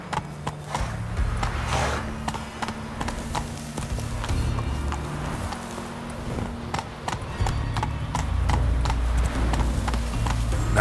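Hooves of Roach, a horse in The Witcher 3, clip-clop in a fast, rhythmic gallop over rough ground, steady and moderately loud for the whole stretch.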